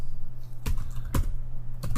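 Keystrokes clatter on a computer keyboard at a network switch console, a few sharp clicks spaced apart over a steady hum, close and without talk.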